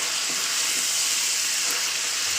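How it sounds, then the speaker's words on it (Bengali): Chicken pieces frying in oil in a kadai give a steady, close hiss and sizzle that runs evenly without pause, with no voices. "আমি 4 থেকে 5 মিনিট ধরে আমি মাংসটাকে ভাজা ভাজা করে নিয়েছি।"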